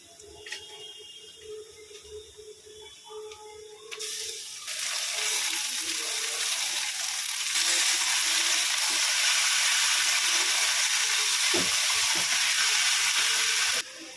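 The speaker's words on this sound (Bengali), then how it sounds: "এটা আমি একেবারে পেঁয়াজের সঙ্গে দিয়ে ভাজবো।" Chicken mince frying in a pan together with onions, a soft sizzle at first that swells into a loud, dense, continuous hiss after a few seconds, with occasional stirring scrapes.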